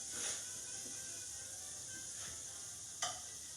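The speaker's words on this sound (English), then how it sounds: "Get that nice searing noise that we always talk about." Shrimp sear in melted butter in a pan with a soft, steady sizzling hiss, faint and continuous, broken by a couple of light clicks of tongs.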